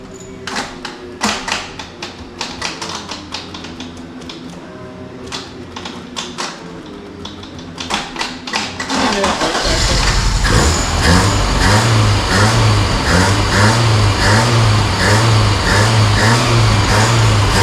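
A 1983 Honda Civic with a 1.5L EM1 engine and a troublesome carburetor cranks on its starter with rapid clicking churns for about nine seconds, then catches and runs with a loud, steady, throbbing rumble.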